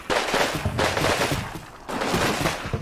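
Dense bursts of rifle and machine-gun fire blazing into a forest in the Combat Mission Rome to Victory war game, loud continuous crackling volleys in two long strings with a brief lull between.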